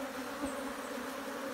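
A dense, steady hum of honeybees buzzing from an opened hive during a colony split, close and continuous throughout.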